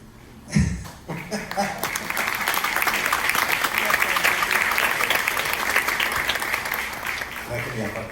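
Audience applause at a Mexican tax conference panel on customs, sustained clapping from a large room that swells after a sharp onset and holds steady, with a voice talking over it near the start.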